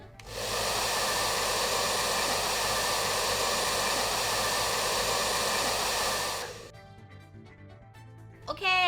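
A hair dryer blows steadily and loudly for about six seconds as it dries sunscreen applied to skin, then cuts off, leaving a quiet room with a brief rising tone at the end.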